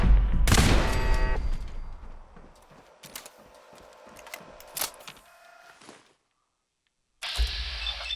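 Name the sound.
laser turrets firing in Fallout 4 video game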